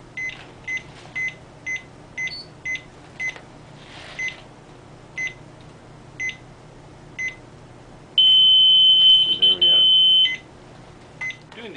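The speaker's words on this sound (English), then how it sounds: "For checking the low rate alarm, we are going to set this to 65, and we will change the simulator to 60." A defibrillator analyzer's low rate alarm beeping in a biomedical equipment test, a regular series of short, fairly loud electronic beeps, followed by a longer sustained tone and a brief burst of voice.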